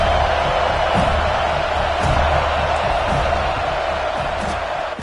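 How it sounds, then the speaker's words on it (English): A large stadium crowd roars at a Florida versus FSU football game as a kicker lines up, a dense, sustained wash of noise with occasional sharp bangs and shouts, heard from within. "This crowd trying to do its part to get inside the kicker's head."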